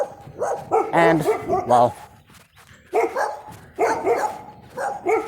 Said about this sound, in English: I can't think with you little bastards barking away like that